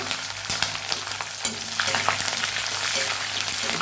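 Garlic with green and dried chillies frying in oil in a pan, a close, loud, crackling sizzle with a few stirring knocks early on, growing denser and steadier toward the end, with no speech.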